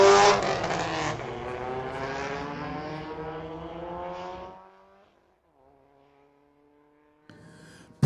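Drag race at Mission Raceway Park between a 2011 Subaru and a 1979 Pontiac Firebird, loud engines screaming as they climb through the gears, fading into the distance to a faint drone, with a brief burst of noise returning near the end.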